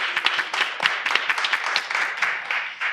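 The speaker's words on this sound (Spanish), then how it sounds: "Démosle un aplauso a la gran Costa." Theatre audience applauding a comedic one-woman show, a dense, steady wash of many hands clapping close and fairly loud throughout, with no talking over it.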